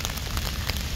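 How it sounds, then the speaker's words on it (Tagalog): Rain patters steadily and closely on an umbrella held outdoors near a street, a dense, continuous drumming of drops with no voices. "Nabot kasi tayo ng ulan, oh."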